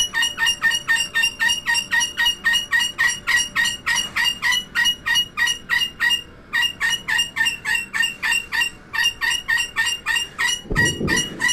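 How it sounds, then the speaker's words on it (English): A pet bird calls over and over as soon as its cage is uncovered, a loud, steady run of sharp repeated notes that continues nearly without a break, pausing once briefly, with a low thump near the end. "the bird will not shut up until she gets it"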